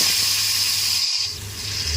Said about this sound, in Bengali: মাছগুলোকে ছেড়ে দিচ্ছি